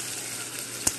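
Quinoa sautéing in a little oil with blended seasoning for a soup, a soft, even sizzle close by with one brief stir or clink near the end.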